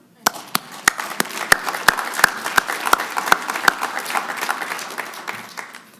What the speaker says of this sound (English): This is something worth clapping for